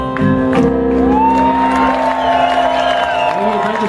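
An audience at a convention performance claps and cheers after a comedic song, a lively crowd with whoops and shouts ringing out over a sustained musical tone, loud and close.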